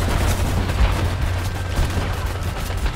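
Continuous gunfire from a first-person shooter, Homefront: The Revolution, plays loud and dense throughout, with steady low battle rumble and rapid shots blending into a constant barrage rather than distinct single reports.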